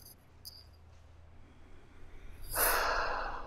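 A deep, breathy exhale builds in the last second after near silence, a broad airy rush that grows loud and close during a guided breathwork session.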